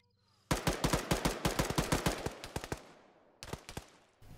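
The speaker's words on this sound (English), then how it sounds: "if I shoot him, that should solve my issue" Automatic gunfire from ArmA 3 rattles in a long rapid burst of sharp shots with echo, followed by a shorter burst, loud and close with no voices.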